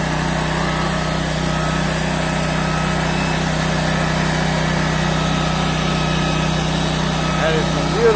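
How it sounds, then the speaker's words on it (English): A sawmill runs steadily as it cuts through a large log, its engine droning loud and continuous throughout with no pauses. "It ain't hard to push that sawmill. It does the cutting."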